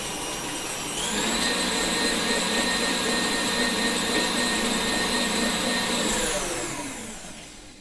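An electric hand mixer whirs steadily as it beats mashed bananas and sugar in a bowl, a loud, even motor drone that spins up sharply at the start, holds for several seconds and winds down at the end.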